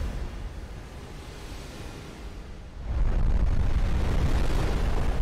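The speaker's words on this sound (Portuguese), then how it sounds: "Uma explosão foi muito imensa" A cartoon explosion from an animated Skibidi Toilet episode erupts as a loud, sustained roaring rumble that swells suddenly midway and keeps thundering without any talk.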